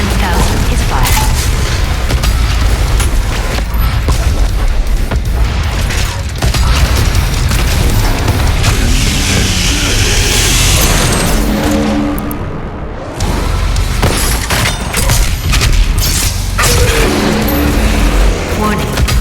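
BFG 10,000 fire in the video game Doom Eternal: a loud, dense barrage of booming blasts and heavy rumble that continues almost without a break, with only a short dip in intensity partway through.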